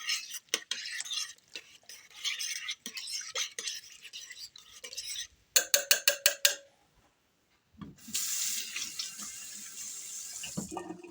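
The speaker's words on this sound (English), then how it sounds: "Mix it all up." Beef instant stock mix stirred into ingredients for crock pot unstuffed peppers, heard as close clicking and scraping spoon strokes against a pot, then a quick rattling burst, a silent gap, and a rushing, water-like hiss at the end.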